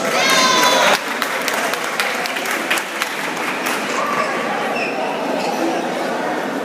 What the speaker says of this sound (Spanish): por favor, alienten con fuertes palmas